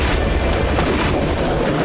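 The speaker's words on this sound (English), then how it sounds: "So that when the actual explosion went off" Explosives set off by a plunger produce a loud, dense blast that fills the whole stretch with a sustained rumbling roar, heard alone without voices.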